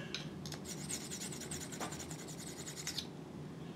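A rock is rubbed across a streak plate in a streak test, producing a quick series of scratchy, rasping strokes in a close, quiet setting.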